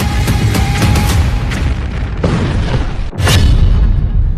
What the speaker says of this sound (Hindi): बेरूत पर बमबारी